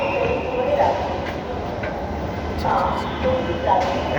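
A metro train rolls along with a steady, low rumble and rattle throughout. Faint people's voices and onboard sounds sit over the continuous noise.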